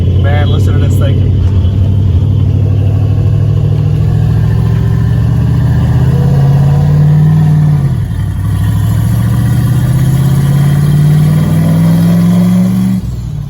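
Turbocharged 6.0 LS V8 with a 4L80E transmission in a caravan, driving with a loud, steady engine drone that climbs in pitch, dips briefly and rises again.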